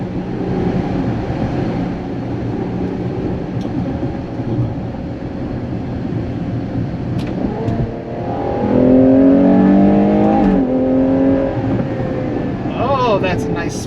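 A Ferrari Purosangue engine with no turbo boost pulls smoothly under acceleration while driving, its tone rising in pitch and growing louder midway, with someone talking over it.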